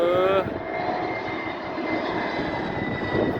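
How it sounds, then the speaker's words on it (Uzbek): A fixed-wing airplane approaches to land at a large European airport, its engine roar steady and loud throughout, with a brief voice at the very start. "mana yana bitta samolyot kelyapti, qaranglar mana"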